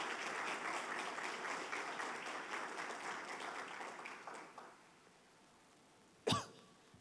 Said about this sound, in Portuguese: Você pode dar uma salva de palmas para Jesus por causa disso?